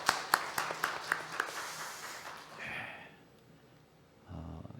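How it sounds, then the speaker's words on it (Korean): Scattered hand claps from a church congregation at a Korean Sunday service ring out in quick succession, thinning and fading within a couple of seconds into quiet room noise. "우리 다 같이 좀 일어나시면 박수로 한번 격려하면서 축복하면 좋겠습니다"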